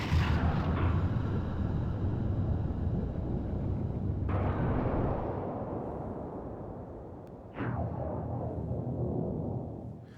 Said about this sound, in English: so that's the cause of the giant explosion